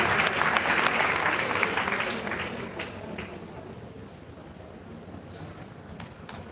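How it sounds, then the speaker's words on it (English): An audience claps as a woman guest comes up at a live-streamed event; the applause is fairly loud at first and then fades to a thin patter over several seconds. "let's give her a round of applause as she comes"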